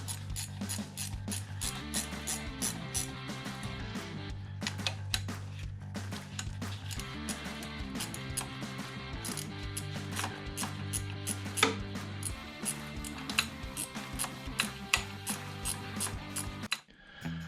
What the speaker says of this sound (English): Gotta say, I love these ratchet wrenches.